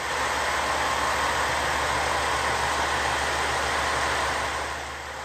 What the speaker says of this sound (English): The diesel engine sounds great